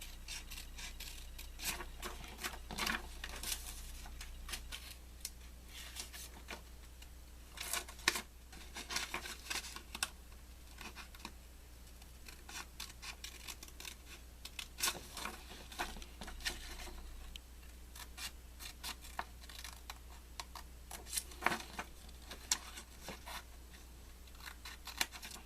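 Scissors snip through paper for a craft house in soft, irregular close-up cuts and rustles, quiet over a low steady hum.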